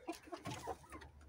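Short, soft clucking from a young chicken, a few quiet clucks in an irregular rhythm, close by, with a steady low background hum and no talk.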